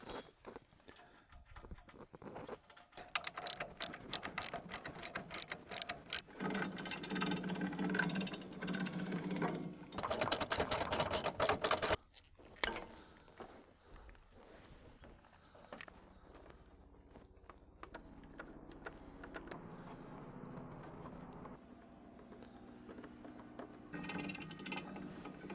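A ratcheting winch handle advances the cutting head of a Wood-Mizer LT15 portable sawmill, giving close, rapid bursts of metallic clicking with quieter mechanical clunks and handling noise between them.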